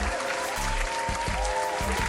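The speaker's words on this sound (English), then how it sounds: "Go ahead and clap it up, y'all." Scattered applause under a steady low tone and intermittent bass thumps, fairly faint, a brief burst of clapping during a boxing discussion.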